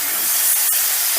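Three medium tomatoes, chopped fine, hit a hot pan for a paneer do pyaza and give off a steady, hissing sizzle that stays broad and even throughout, close by and with no voices.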